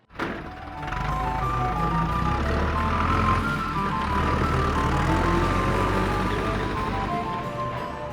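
A truck rumbles steadily after a sharp thunk at the start, its low engine drone constant and fairly loud, with a faint tonal beeping melody riding on top throughout.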